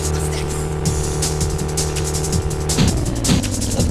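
A car engine drones steadily in a retro arcade-style racing game, a loud, continuous hum with shifting pitch and brief tire-squeal flourishes near the end, no voices over it.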